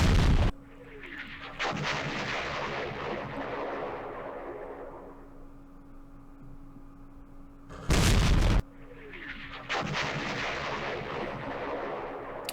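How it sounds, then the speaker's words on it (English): Artillery shells exploding in the wargame Campaign Series Vietnam during the 1968 Battle of Ba Ria, two sharp loud blasts each followed by a long rumbling roar that slowly fades, repeated twice with no talking. "Our artillery is hitting, but not in the right spots."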